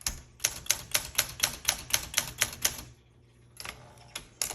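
Keys striking on a 1966 Olympia SM9 manual typewriter: a quick, even run of about ten crisp clacks, a short pause, then a few more strokes, close and clear with no talking.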